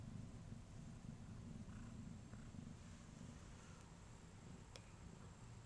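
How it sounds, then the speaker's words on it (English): A pregnant, heavily round-bellied cat purrs steadily up close, a continuous low rumble running unbroken through the clip with no talk over it. "She's purring."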